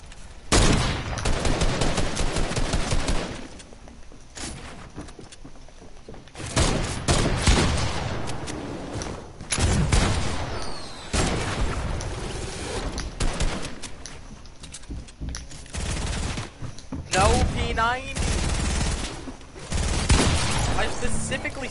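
Fortnite gunfire in a creative-mode match: loud bursts of automatic fire and rapid single shots come in waves across the stretch, with players chatting over the shooting.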